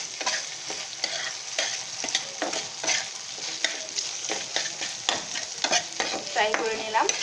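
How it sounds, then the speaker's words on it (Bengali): Egg and chicken with soy sauce fry and get stirred in a pan, a close, continuous sizzle broken by repeated scraping strokes of a utensil, with no talking. "ফ্রাই করে নিলাম"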